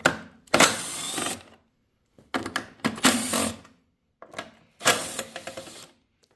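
Bolts come off the top of an old push lawnmower in loud bursts of metallic ratcheting and clattering tool work, broken by short silent pauses, with no talking.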